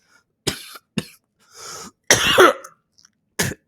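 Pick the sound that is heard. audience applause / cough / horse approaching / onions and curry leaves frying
cough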